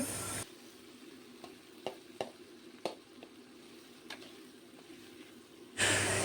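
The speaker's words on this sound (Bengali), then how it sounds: "আদা রসুন বাটা এবং ঢ্যাঁড়স নিয়ে নিয়েছি আর তেলে দিয়ে দিলাম" Okra with ginger-garlic paste frying in oil gives a quiet, steady sizzle marked by a few soft clicks and stirring scrapes, with louder bursts of noise at the very start and end.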